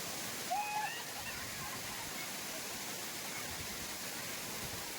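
Thripparappu waterfall near Thiruvananthapuram, a constant broadband roar of falling water filling the scene, with a brief faint whistle-like tone early on and no clear talk.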